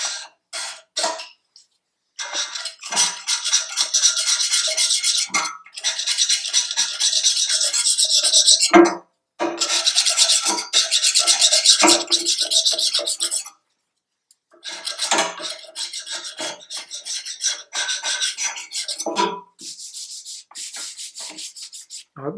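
Hand abrasive rubbing on a frame to clear leftover remnants, a series of close, rasping scrubbing strokes in irregular bursts separated by short pauses, with no talking.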